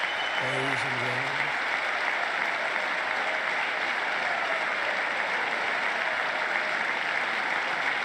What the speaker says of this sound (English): They sure are clapping like trained seals, aren't they?